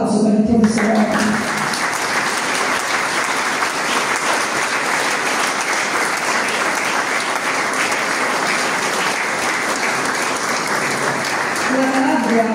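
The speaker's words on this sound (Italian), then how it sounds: "vorrei un applauso per il professor Ordine" Warm, steady applause from an audience at the inauguration of a library in San Mango D'Aquino, Calabria, a full round of clapping that holds evenly, with brief voices at the start and end.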